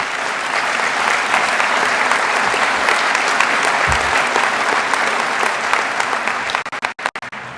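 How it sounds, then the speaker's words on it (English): Steady, dense applause from an audience at a track and field hall of fame induction ceremony, sustained loud and even before breaking into scattered final claps and fading out at the end. "yes, clap for yourself"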